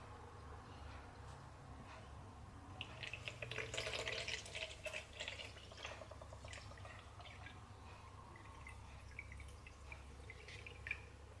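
Water filling a bottle to 400 ml for a Kangen K8 e-cleaning step, a soft steady trickling and splashing stream, quiet and close, swelling in the middle.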